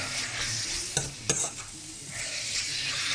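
Beef seasoned with pepper sizzles steadily as it browns in a pan for stew, with two or three brief clunks of a utensil stirring over the constant hiss.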